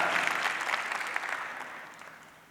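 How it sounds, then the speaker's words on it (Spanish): Church congregation applauding Pastor Fernando for the baptism and discipleship ministry, a soft, sustained patter of many hands that gradually fades away. "Un aplauso, Pastor Fernando, por el trabajo del ministerio de bautismo, seguimiento, discipulado."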